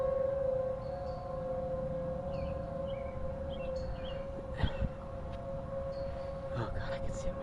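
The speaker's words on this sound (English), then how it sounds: "It's the first time I heard the sirens for a severe thunderstorm warning this year." Civil defense sirens sound a severe thunderstorm warning in Omaha as a steady, distant wail held throughout. A windy outdoor rumble runs under it, with a faint voice in the background.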